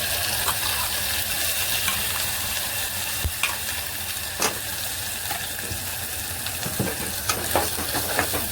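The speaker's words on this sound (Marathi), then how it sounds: "टेचलेला लसूण मी टेचून घेतलं तो लसूण टाकूया आणि ते धाक तडका छान बसला" Crushed garlic sizzles loudly in hot oil for a tadka, a bright continuous close frying hiss with sporadic pops and stirring scrapes, no one speaking.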